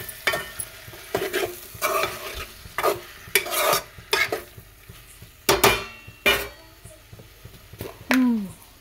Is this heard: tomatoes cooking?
yes